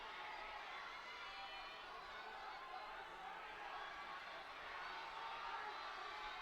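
An arena crowd at the Judo Grand Slam Tokyo 2015 cheers in a faint, distant, steady wash of noise that holds constant without distinct peaks.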